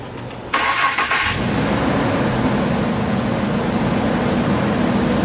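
A 2008 Ford F-150 4.2 V6 truck engine starts up and settles into a steady, close idle, holding a continuous even hum for several seconds with no talk.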